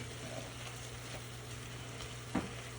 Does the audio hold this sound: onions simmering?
yes